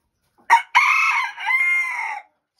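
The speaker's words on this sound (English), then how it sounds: "It's supposed to be bedtime and they're all crowing still." Bearded Belgian d'Uccle bantam rooster crows at bedtime, a clear close crow with a short sharp opening note and a drawn-out wavering call lasting nearly two seconds.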